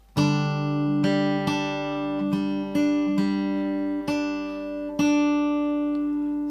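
A melodic line from a piece from The Last of Us Part II picked on acoustic guitar, clear single notes struck one after another at a moderate, steady pace with ringing sustain.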